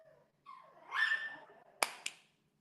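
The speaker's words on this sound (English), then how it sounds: "a dog saying hello too." A dog gives a whiny, yelping vocalization followed by two short sharp barks, close by with no talking.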